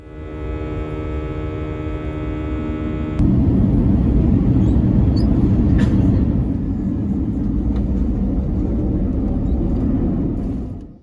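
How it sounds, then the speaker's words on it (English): Cabin noise on a Lufthansa business-class flight from Düsseldorf to Frankfurt, a loud, steady low roar of the aircraft that holds for the whole stretch. A faint tonal hum drops out partway through, leaving the broad rumble alone. "we boarded Lufthansa's business class for the short hop to Frankfurt"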